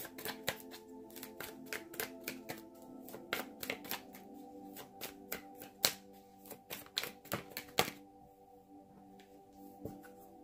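Tarot cards being shuffled by hand close up, a long run of quick crisp riffling flicks and taps in uneven bursts, with a brief pause near the end before a final few snaps.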